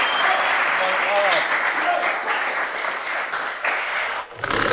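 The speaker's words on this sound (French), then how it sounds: "On peut l'applaudir quand même" An audience applauds in a sustained, dense burst of clapping that fades toward the end, with a voice speaking over it.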